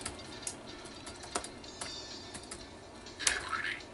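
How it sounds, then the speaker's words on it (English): Keys clack on an Apple iBook Clamshell keyboard while playing the Road Race typing game, giving sparse, irregular soft taps with one sharper burst near the end. "all you do is you just start typing to start the game"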